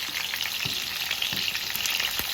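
Eggplants frying in a pan for a stuffed brinjal curry, a steady close sizzle with soft scraping thumps from stirring, no voices.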